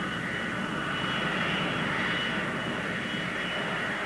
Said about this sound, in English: These development engines are already under test.